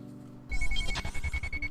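A transceiver in a video game rings with an electronic buzzing tone that starts abruptly and continues steadily with a pulsing low hum beneath it, moderately loud and without talk.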